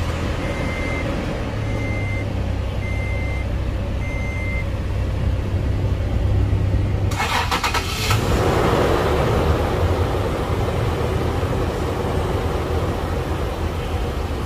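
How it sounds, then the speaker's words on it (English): A 2014 Toyota FJ Cruiser with a V6 gas engine and automatic transmission is started with the key, a short cranking burst followed by a steady, close idle hum, with a few chime beeps sounding before it starts. "so let's try to start the engine"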